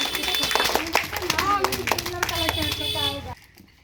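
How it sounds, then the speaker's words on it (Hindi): Children clap at a classroom game, scattered uneven claps mixed with lively kids' chatter and an adult voice, fading out at the end. "ताली बजाओ जी।"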